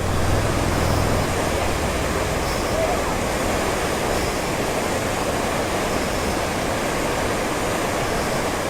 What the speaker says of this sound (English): There's pretty good rapids through here.